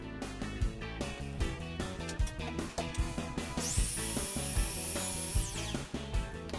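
A saw cuts small wood pieces to size for a pop-up pen box. The loud, close rasping comes in rhythmic strokes, joined midway by a high whining tone.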